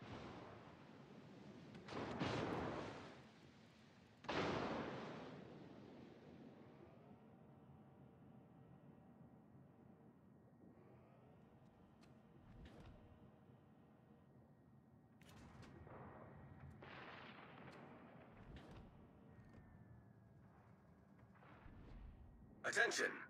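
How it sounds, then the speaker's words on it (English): Ship artillery fire in the World of Warships naval game: two heavy booming salvos early on, then scattered sharper shots and bursts over a low engine-like hum, with a loud blast at the very end. "I'm shooting someone at the citadel."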